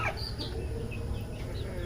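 Farmyard chickens cluck faintly at a distance over a steady low background hum, with a few soft higher calls scattered through the short stretch.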